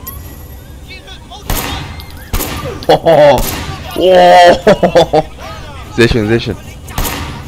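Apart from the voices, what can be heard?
gunfire in the video game Sleeping Dogs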